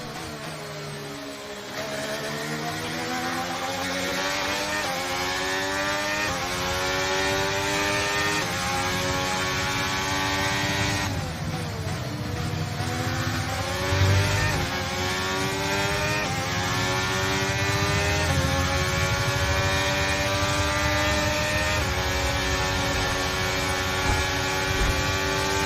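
Formula 1 race car engines in the F1 23 video game, a continuous high-revving whine that climbs and drops through gear changes across the lap, with other cars droning close by.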